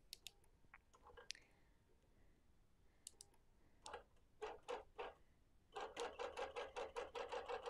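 A sewing machine runs a basting stitch across a quilt, starting with scattered clicks, then short separate stitch bursts, and ending in a quick, steady run of rhythmic needle thumps, close and quiet.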